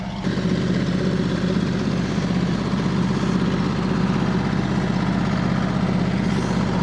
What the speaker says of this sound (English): That tractor does not sound good.